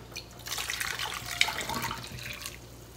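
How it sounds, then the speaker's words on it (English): Dashi stock is poured from one vessel into a cooking pot, a soft, brief splashing trickle of liquid, quiet and close with no voices. "Then transfer dashi stock to a pot."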